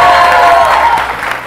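A studio audience on a TV morning show claps for a guest named Angie, a loud, dense burst of applause that eases off after about a second.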